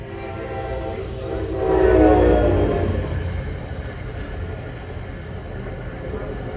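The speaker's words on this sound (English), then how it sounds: "the gates are going down for, I think, for train 63 to Port Jervis" NJ Transit train 63 to Port Jervis passes a grade crossing in Rutherford, NJ, with a steady rumble that swells to a horn blast, then fades back into the rolling noise of the cars.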